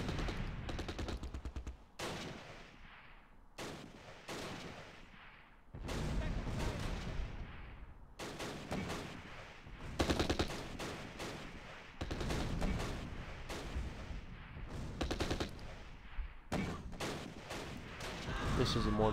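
Gunfire and mortar rounds in the WWII strategy game Close Combat: Last Stand Arnhem, coming in uneven bursts and thuds separated by short quiet gaps, with someone talking over parts of it.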